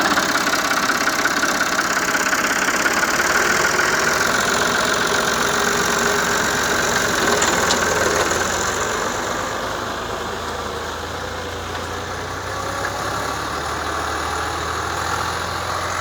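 A Ford 4560 tractor pulls a field leveler, its diesel engine running in a steady, loud, knocking drone that eases slightly partway through and keeps going without a break.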